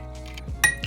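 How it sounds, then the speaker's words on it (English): Ice cubes dropped into a cocktail glass while building an old fashioned with black pepper and orange bitters, giving a quick bright clink near the end of a short, quiet moment. "Add your ice to the glass."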